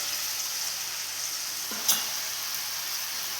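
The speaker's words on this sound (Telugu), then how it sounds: "కొద్దిగా మగ్గినాయి టమాటాలు ఇందులో ఇప్పుడు గోగాకు వేసేస్తాం" Tomatoes simmer softly in a pan with gongura leaves as a Telugu chutney cooks, a steady, close hiss of gentle frying with one small clatter partway through.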